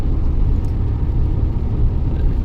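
A van cruising along a motorway near France in the rain, a steady, loud low engine and road rumble with tyre whir, continuous and unbroken, with no talking.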